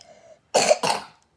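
A child gives two deep, heavy coughs in quick succession, close and loud, after a brief moment of faint background sound.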